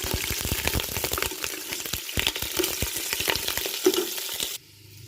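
Chicken pieces dropped into hot oil in a pressure cooker, crackling and sizzling loudly with stirring clatter, stopping abruptly near the end.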